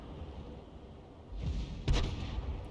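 Lorraine 155 mle 51 artillery gun firing in a tank video game: two heavy booms about half a second apart, the second louder and sharper, over a steady low rumble.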